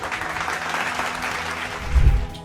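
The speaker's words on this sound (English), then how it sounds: "Let's have a round of applause for Calibra Talent Solutions Private Limited" Audience applause at an India Today televised awards event for preferred workplaces for women, a steady dense clapping throughout that swells briefly near the end.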